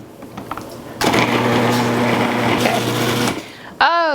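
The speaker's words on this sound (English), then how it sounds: "I'm just going to use the food processor to puree this" A food processor purees roasted pumpkin for pumpkin hummus in one loud, steady whirring burst of about two seconds, with quieter handling sounds before and after.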